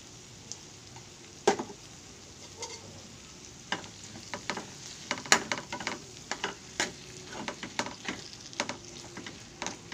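Corned beef and potatoes fry in a pan with a steady sizzle, broken by irregular scraping and clinking as the food is stirred, close and moderately loud, no talking.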